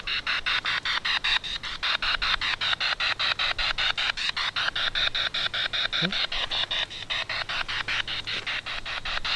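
A spirit box radio sweeping through stations, giving steady hissing static chopped by rapid regular clicks as it scans, with faint voice-like fragments briefly showing through.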